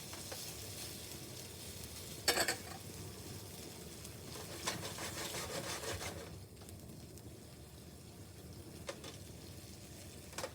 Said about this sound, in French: Et je vais flamber.